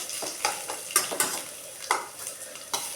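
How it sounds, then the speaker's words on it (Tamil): Onion and curry leaves sauté in a pan with a light sizzle, broken by repeated scraping and tapping strokes of a spatula stirring at an uneven rhythm. "கொஞ்சம் வெங்காயம் கறிவேப்பிலை போட்டு நல்லா வதக்கிக்கலாம்."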